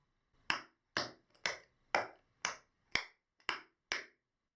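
Tap shoes click through a sequence of brush, toe, heel, toe tap and dig steps, eight sharp close taps in a steady, slightly uneven rhythm on a hard floor.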